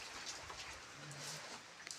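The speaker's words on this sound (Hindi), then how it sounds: "इस तरह से बारिश लगी हुई है" Steady rain falls outdoors around a hill-village home where farm animals are kept, a soft, even hiss with faint patter, continuous and quiet, with no one speaking.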